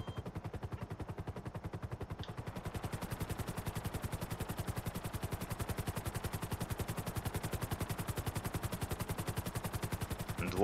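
Sustained bursts from a GTA V Online helicopter's machine gun, a fast, even hammering of shots with no pause, heavy and near, running alone with no talk.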